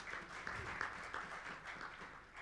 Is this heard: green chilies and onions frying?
no